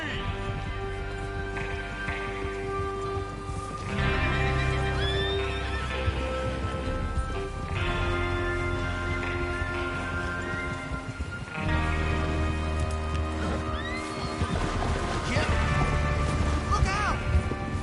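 Horses neighing and whinnying over a steady clatter of hooves in Red Dead Redemption 2, loud and continuous, with occasional crashes mixed into the busy soundscape.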